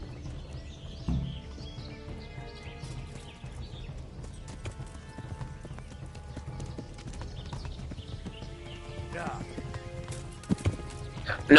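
Horse hooves clip-clop steadily in the video game Kingdom Come: Deliverance, with occasional whinnies and faint birdsong in the background while someone talks over the sound.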